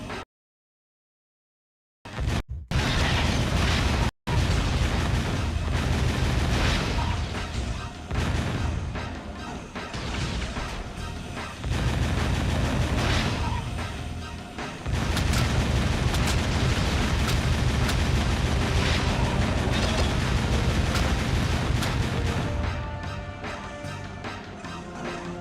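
Gunfire and explosions in the video game Jak 2, a dense, loud and continuous barrage of booms and blasts after a brief silence, with a short dropout near the start.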